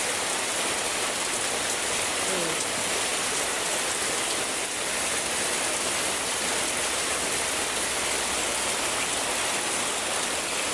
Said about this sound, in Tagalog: Parang lalong lumalakas ang ulan guys